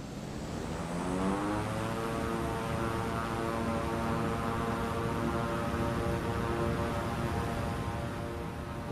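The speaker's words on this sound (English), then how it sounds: "The pilot read back the instruction and then commenced his takeoff roll." A Beechcraft King Air turboprop on its takeoff roll at Melbourne, Australia, produces a steady, loud engine drone with whining tones that rise in pitch as power builds, continuous and alone without voices.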